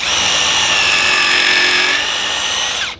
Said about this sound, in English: So I have to pre-drill or you'll split this wood